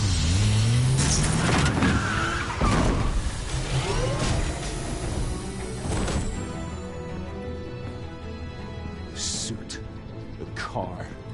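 A car drives through a dark, cavernous space in the Batman Telltale Series game, a loud engine rumble and whoosh with swelling tones and clanks, fading under echoing ambience and spoken lines.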